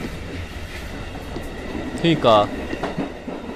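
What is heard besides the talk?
subway train running, from a horror video game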